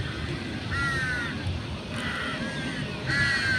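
Crows caw in a city park, a few harsh calls coming in separate bursts at middling distance over a constant low background hum.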